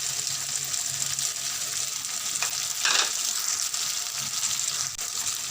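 Fries tipped into a pan of chicken macaroni with capsicum, setting off a steady, loud sizzle and frying hiss with a brief surge of crackle midway, no voices.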